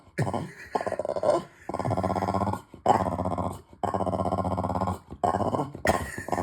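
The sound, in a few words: dog growling and whimpering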